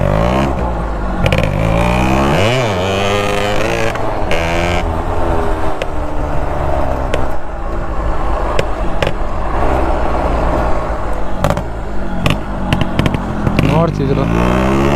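A stock-condition motorcycle engine runs loudly and close, idling and revving repeatedly with rising and falling pitch, while people talk over it.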